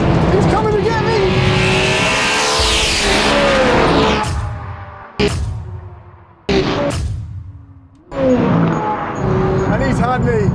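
Video-game drag race between a Nissan R34 GTR and a Corvette C8, loud engines howling through rising revs with sharp gear-change cuts and brief drops, close and continuous.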